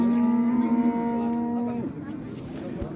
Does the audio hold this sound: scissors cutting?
no